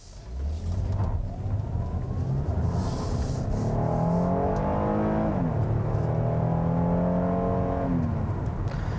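A front-wheel-drive 2017 Hyundai Santa Fe Limited pulls away on the road, its engine note climbing and dropping back at each upshift twice, heard steadily from inside over road and tire rumble.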